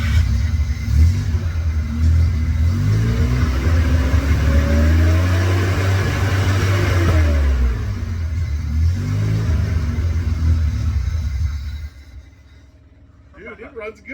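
Junkyard Mazda RX-7 engine firing up and revving to around 3,000 RPM, a loud rough rumble that climbs and falls in pitch with the throttle before dropping away, while people talk over it.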